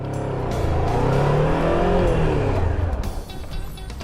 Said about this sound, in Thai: กดเบรกหน้าเบรกหลังเอาให้รถมันดับไปเลยก็ได้ อย่างเช่นอย่างนี้ฮะ